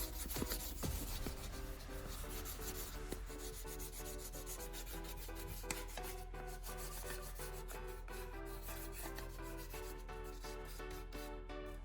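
Steady, close rubbing and scraping of sandpaper on oxidized metal battery terminals, continuous strokes with no speech.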